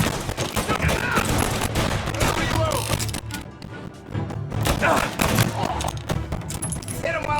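Rapid, close bursts of gunfire crackle through a firefight in the video game Mafia: Definitive Edition, nearly constant, with shouting voices mixed among the shots.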